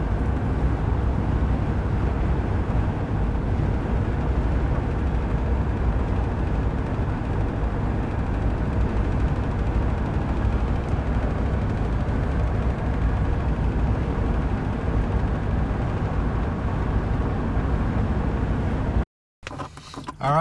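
Steady, broadband road and tire roar inside a GMC Sierra fitted with all-terrain tires cruising at 70 mph, a constant low rumble with no talk, cutting out briefly near the end.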